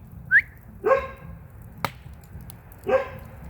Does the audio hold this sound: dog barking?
yes